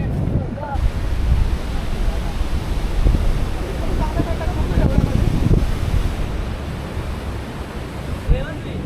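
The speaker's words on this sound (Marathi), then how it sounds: "तुम्ही बघू शकता समुद्राचं पाणी किती फास्ट आहे." Fast-moving sea waves near Kashid Beach, a steady roar of surf with strong wind buffeting the microphone, loud and continuous throughout.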